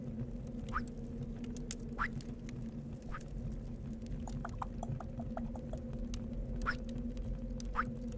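A person imitates water drops with their throat beside a campfire: a series of soft, quick clicking plops, some in a rapid cluster, over a steady low background rumble.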